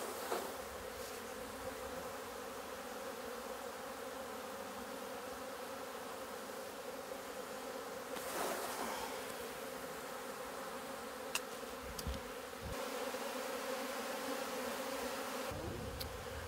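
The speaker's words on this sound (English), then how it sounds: "Grip both ends of the frame quite firmly and shake the bees into the tub." Honeybees shaken from a hive frame into a tub keep up a steady, dense buzzing that hums on without a break, close and moderately loud, with no one speaking.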